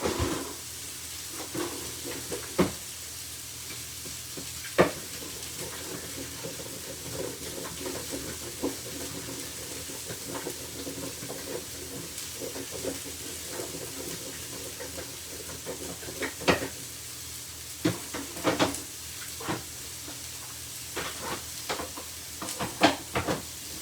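Potato wedges coated in melted coconut oil sizzle in a frying pan, a continuous close hiss broken by scattered crackles, pops and clatters of stirring.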